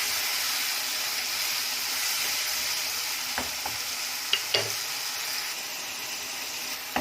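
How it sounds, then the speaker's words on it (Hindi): Onions fry with minced meat (keema) in a pot, giving a constant loud sizzle throughout, with a few sharp clinks of a utensil against the pot partway through. "कीमे के साथ ये प्याज बिल्कुल गल जाएंगी और फ्राई भी होती जाएंगी"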